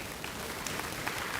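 An audience at a student excellence celebration claps in a short, steady patter of applause, fairly faint and even throughout.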